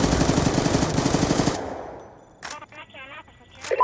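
Automatic gunfire in Black Ops 2 online play: a loud, fast, sustained burst that stops abruptly, followed by faint game sounds and a short voice-like chirp.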